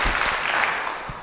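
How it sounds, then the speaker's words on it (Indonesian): Church congregation applauding after a call to praise, a steady wash of many hands clapping at moderate loudness, fairly close, with no talk over it. "beri tepuk tangan yang baik buat Tuhan"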